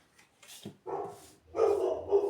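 A female dog gives a few short, close barks and yips indoors, the last burst the loudest, with no talk over them.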